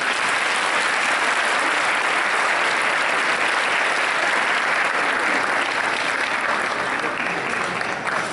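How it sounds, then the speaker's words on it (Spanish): Steady, dense applause from a school anniversary concert audience, loud and continuous for the whole stretch with no pauses or talk. "Recibámoslos con un fuerte aplauso."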